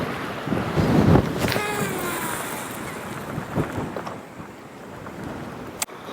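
Wind gusts buffet a fishing boat on Lake Borgne, a broad rushing roar with the water's wash underneath, strongest early on and easing off, ending with a sharp knock.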